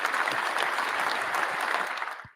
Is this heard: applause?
yes